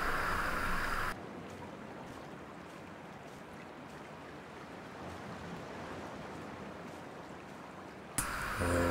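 Gentle water ambience from the walking video game Dear Esther, a steady broadband wash of waves and lapping surf that holds evenly for several seconds between brief louder bursts at the start and end.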